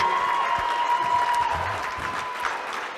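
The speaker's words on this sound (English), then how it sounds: "Give these guys a big round of applause while the band comes to the stage." Audience applause at a law enforcement memorial ball and auction, a steady wash of clapping filling the room with faint crowd murmur, fading slightly toward the end.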